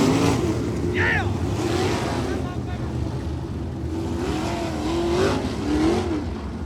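A race car engine revs and surges on a hot lap at a dirt-track race night, a steady loud motor drone with rising and falling pitch sweeps, heard from a distance under crowd chatter and nearby voices.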